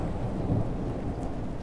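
A dense roar of heavy rain with a deep thunder rumble in the video game Airport Renovator, loud and steady throughout with no speech.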